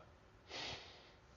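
A single quick sniff over a glass of Goose Island Goose IPA beer, a short airy intake close to the microphone, faint and otherwise quiet.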